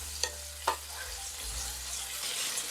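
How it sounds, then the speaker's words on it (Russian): Bacon sizzles and crackles steadily in a hot pan, with a couple of sharp clicks and light scraping near the start. "Отправляю бекон на сковородку и слегка его обжариваю"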